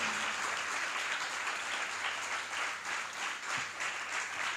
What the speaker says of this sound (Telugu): గట్టి కొట్టు చప్పట్లు